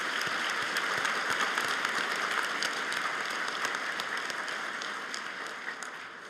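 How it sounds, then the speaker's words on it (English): Graduands at a SAIT winter convocation ceremony applauding faculty and staff: dense, sustained clapping from a large crowd in a hall, steady throughout and slowly fading toward the end. "So graduands, would you join me with a round of applause, thanking all of the faculty and staff you got to work with"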